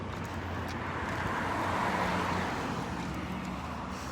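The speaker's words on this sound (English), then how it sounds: "You can hear parallel traffic on the left." Steady traffic on a parallel street beside a sidewalk near a museum, a continuous broadband road roar of passing cars that holds at a constant moderate level throughout, with no talking.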